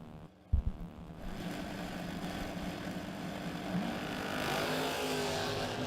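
Drag race cars launch off the line at a spring King of the Creek event, a sharp thump followed by a swelling, sustained engine roar heard from a distance.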